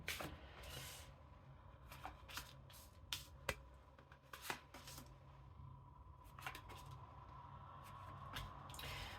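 Tarot cards shuffled by hand, a run of quick papery riffles and slaps in irregular bursts, close and quiet, with no talking.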